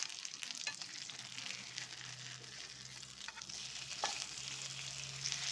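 Fish fillets sizzle and crackle steadily in a hot oiled pan, a continuous close frying hiss with occasional sharper pops and spatters, no voices.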